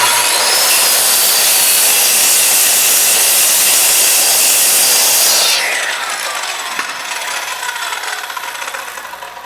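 Circular saw ripping through wood for a garage workshop cabinet build, a loud steady whine for about five seconds, then the blade spins down and fades as the cut ends.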